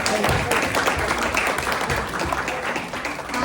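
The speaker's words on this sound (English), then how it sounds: "Let's give them a round of applause" Audience applause for the speakers at a senior living costs seminar: a full, loud wash of clapping from a crowd that holds steady for the whole stretch.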